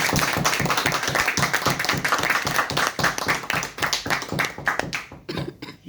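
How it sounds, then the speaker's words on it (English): An audience at a Toastmasters farewell ceremony claps for a Toastmaster, a dense run of close, rapid handclaps that keeps going and thins out toward the end. "So let's clap for Toastmaster Varun."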